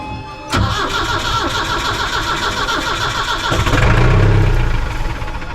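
A boat's diesel engine in Tunisia cranks and catches after air is bled from its fuel system, then runs loud and close at a rough, steady idle before the revs briefly rise and ease off.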